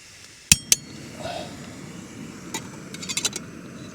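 Two sharp glass clinks close together near the start, then a quick cluster of lighter clinks later, outdoors at a wild camp on Dartmoor while drinks are poured before dinner.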